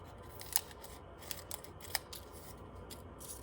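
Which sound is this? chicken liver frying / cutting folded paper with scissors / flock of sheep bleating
cutting folded paper with scissors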